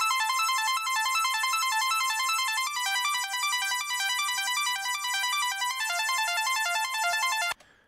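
Bright, high synth arpeggio from a Mini Moog "Hero" preset, rapid even notes repeating steadily and loudly for about seven seconds before cutting off abruptly, with no voices.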